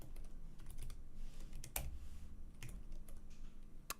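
Computer keyboard keys clicking at a desk while API keys are entered, light irregular taps close by with a couple of sharper strokes, quiet and without talk.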